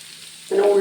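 Curry leaves, chillies and coriander hitting hot oil in a frying pan for tempering, quiet hum at first, then a sudden loud sizzle bursting in halfway and continuing crackling to the end.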